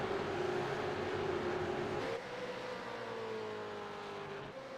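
Supercars racing at Phillip Island in the iRacing simulator, engines droning at high revs with a gear change partway through, the pitch dropping and then climbing again, steady and moderately loud with no talk.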